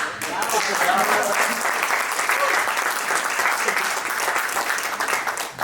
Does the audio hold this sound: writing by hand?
no